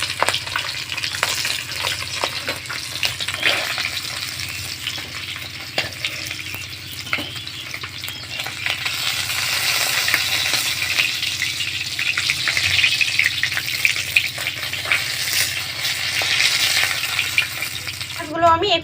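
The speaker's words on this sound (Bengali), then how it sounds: "উল্টে পাল্টে লাল করে ভেজে দেবো" Pond fish fry in hot oil in a pan, a steady close sizzle running throughout with scattered crackles and occasional stirring scrapes.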